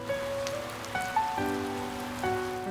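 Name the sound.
heavy rain falling outside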